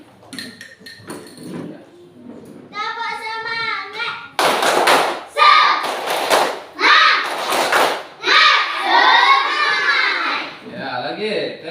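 Children chant in unison and break into loud, rhythmic bursts of group clapping for a class cheer, with a leader's voice and repeated clap patterns close by.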